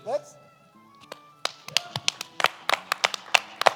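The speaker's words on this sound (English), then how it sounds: "If you're at home on your computer, clap anyway. Just clap it out." A small group claps at a charity gaming livestream event, scattered, uneven hand claps starting sparse and growing quicker, with talking over them.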